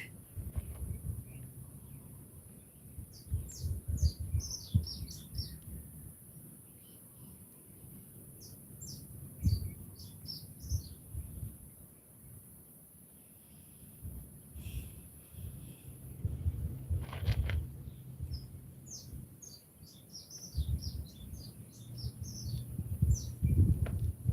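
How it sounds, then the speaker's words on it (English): Small birds chirp and tweet outdoors in scattered bursts of high, bright calls, fairly close, over a low rumble of wind and handling noise. "Oh, you hear the bird talking to us?"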